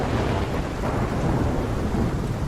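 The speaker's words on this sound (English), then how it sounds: "It's a big ass tornado." Thunder and heavy rain from a thunderstorm with a tornado in the video game Life Is Strange produce a dense, steady roar that fills the scene at constant loudness with no distinct breaks.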